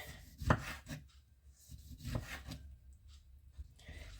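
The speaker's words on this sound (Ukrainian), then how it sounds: "Нарізаємо тонесенькими такими зовсім тоненькими пластиночками." A knife slices eggplant into very thin slices on a board, giving two sharp, close cuts about a second and a half apart, followed by quieter scraping, with no talking.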